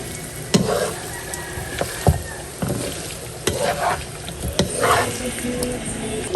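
Tofu sisig stirred in a pan with a steady sizzle underneath, broken by several sharp scrapes and clacks of the utensil against the pan at irregular intervals.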